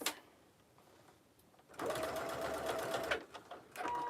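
A sewing machine basts fabric pieces for a belt bag, one short burst of fast steady stitching after a quiet pause, then a few brief clicks and a second start, close up.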